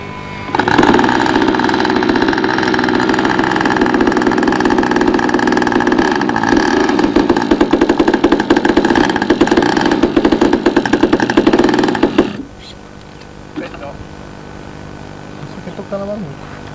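Small RC model airplane engine, I-GODY, running at a loud steady high buzz for about twelve seconds before cutting out, leaving quiet handling noises afterward.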